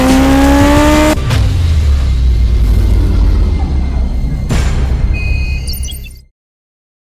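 A motorcycle rides off, its engine loud and close with a steady roar that holds, then fades away before ending in silence.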